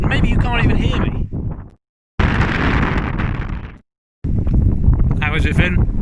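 Strong wind buffets the microphone on an exposed hillside by a river on the Cape Wrath trail, loud gusty roaring in bursts with brief drops to silence, a person talking through it.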